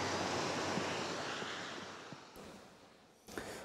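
A steady broadband rush of rainwater flowing through a street drain during heavy rainfall, loud and continuous, with brief cuts and no voices.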